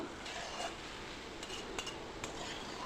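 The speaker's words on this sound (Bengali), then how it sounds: "আবারও সুন্দর করে একটু মিশিয়ে নেব।" Carrot halwa being stirred in a pan with fried cashews and raisins, with faint scraping clinks of a spoon against the metal at an unhurried pace, quiet and close.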